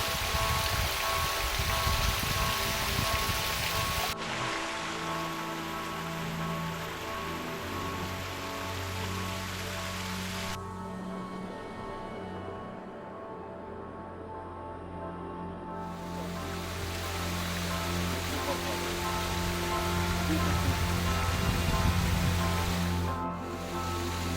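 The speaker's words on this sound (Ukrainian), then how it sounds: "Водоспад три бажання. Прямо майже на самому березі Дністра." Three Wishes waterfall, a multi-cascade fall right on the bank of the Dniester in its canyon, pours as a steady rushing roar of water, shifting in tone as the listening position moves.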